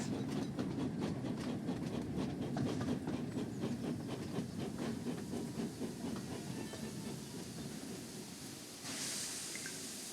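A video game train from Thomas & Friends: Wonders of Sodor rumbles steadily with rhythmic clickety-clack and hissing, slowing gradually to a stop before a burst of steam-like hiss near the end.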